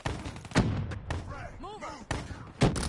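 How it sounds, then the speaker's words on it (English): Sharp blasts and thuds in a PS4 first-person shooter match, several loud bursts spaced across a few seconds with swooping electronic tones between them. "Incoming nade!"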